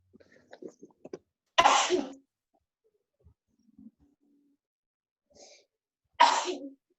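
Two sharp sneezes burst out a few seconds apart in a quiet room, with faint small rustles and sounds in between.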